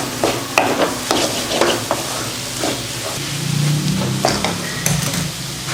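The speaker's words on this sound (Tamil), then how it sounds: "இப்படி மசால் பொடியை போட்டு வதக்கினா காரமும் சேர்ந்துடும் காயில்." Bottle gourd pieces with masala powder being sautéed in a pan, a ladle scraping and tapping the metal every half second or so over a steady sizzle, close and alone.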